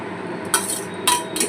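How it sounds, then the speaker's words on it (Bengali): A spice mix sizzling as it fries in a pan, a steady soft hiss broken by a few sharp metallic scrapes of a utensil against the pan, with no talking. "সব দিয়ে একে একে মশলাটাকে ভালো করে একটা ফ্রাই করে নিতে হবে।"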